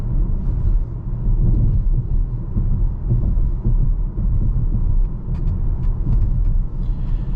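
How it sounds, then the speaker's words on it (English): Low, steady tire rumble inside a 2024 Volvo XC40 rolling along a road, with a continuous rolling drone and faint thumps over small bumps, heard close from the cabin with no talking. "There is just a little bit of tire noise, both kind of like a rolling noise when you're going along and when you're going over bumps."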